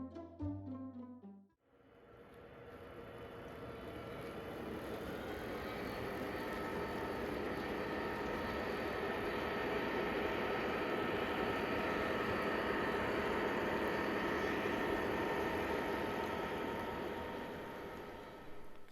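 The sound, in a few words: O-gauge model train running around a layout loop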